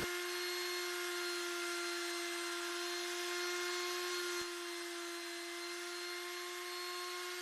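A power tool machines the corners of an ash wood bench, giving a steady, loud, high whine with a strong constant tone that runs continuously, plus a brief click partway through and a slight drop in pitch afterward.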